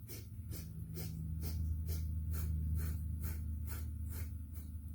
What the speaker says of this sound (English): We have segmented breath through the nose,